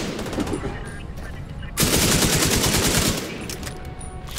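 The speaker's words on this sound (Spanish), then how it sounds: "Esos fusiles con luz. ¡Date prisa! O ametralladoras con luz." Machine gun fire in the shooter game The Division 2, a rapid, loud burst of rattling automatic shots that starts midway and runs for over a second amid lighter game noise before and after.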